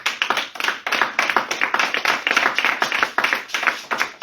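A church congregation clapping in praise, rhythmic and steady hand claps from a group, close and lively, with no talking.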